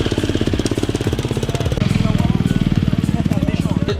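A motorcycle engine runs loudly at a motocross race on chalk ground, a close, rapid pulsing chug that shifts to a rougher, busier beat halfway through, with voices talking over it.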